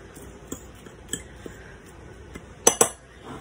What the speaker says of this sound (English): just grab a fork and just mix all this together.